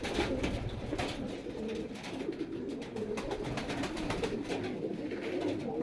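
A male pigeon coos steadily at close range, its low throaty rolling calls carrying on without pause over a soft background hum, with no talking.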